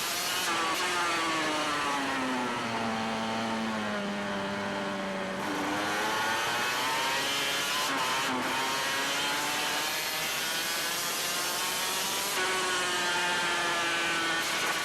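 Onboard sound of a Kamsa Honda racing motorcycle at race speed, a loud high-pitched engine that holds its revs and then drops and climbs through repeated gear changes, with steady wind rush.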